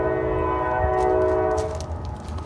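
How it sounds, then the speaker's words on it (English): A loud train passes close by, its sustained horn blaring over heavy rolling rumble that fades slightly toward the end. "I'm gonna stop because this train's loud."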